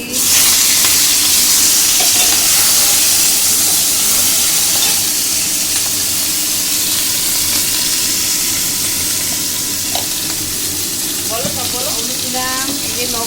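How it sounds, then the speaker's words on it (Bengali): Crabs fry in hot oil in a pan with a loud, continuous sizzle and hiss that holds steady throughout, with faint scraping of a utensil late on. "প্রথমে কাঁকড়াগুলো ভেজে নিচ্ছি"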